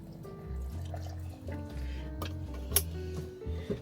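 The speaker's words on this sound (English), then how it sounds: "I'm gonna put some milk in now" Milk pours from a container into a kitchen dish, a soft trickle and gurgle with faint drips, close and quiet, with a low hum and a few light clinks in the background.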